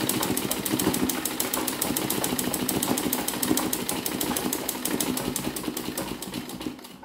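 A domestic embroidery machine stitching a sunflower vase design runs steadily with a fast, even mechanical chatter of needle strokes, loud and close, with no talk, before it slows near the end.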